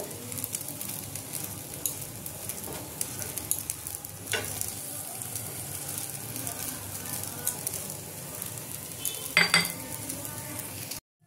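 Potato paratha sizzles in an oiled pan, with light scraping and a few clinks of a utensil against the pan near the end.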